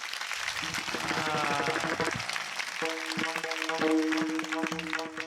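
Audience clapping loudly at a humorous Marathi kirtan, a dense, sustained wash of applause that runs the whole time beneath steady sustained musical tones.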